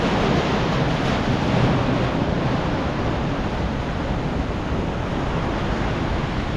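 Ocean waves near Dragons Head Rock at half tide, a continuous broad wash of surf with wind buffeting the microphone, loud and steady throughout with no voices.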